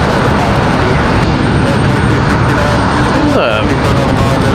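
A Frontier Airlines airplane departs Raleigh-Durham International Airport with a continuous, loud, broad engine roar that fills the scene, with a voice speaking over it.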